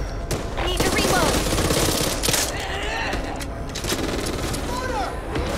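Rapid bursts of gunfire from a zombie shooter game, Back 4 Blood, crackle steadily near and loud as voices call out over the shooting.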